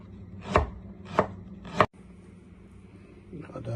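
Three crisp knife chops on a cutting board slicing ginger for a simmering breakfast broth, evenly spaced and close, then a quiet kitchen with faint background noise.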